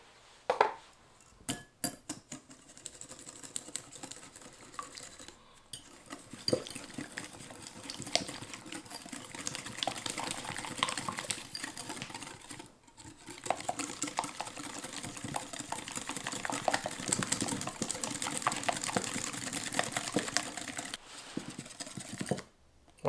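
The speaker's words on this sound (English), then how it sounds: "whisk everything together until it's a little bit light and frothy" Eggs and sugar whisked in a bowl, a steady rapid clicking and scraping of the whisk against the bowl that carries on for over twenty seconds, close and fairly faint, with no talking.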